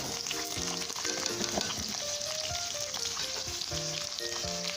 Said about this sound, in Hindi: अजवाइन को थोड़ा सा मैं ऑयल में इसको थोड़ा सा फ्राई करूँगी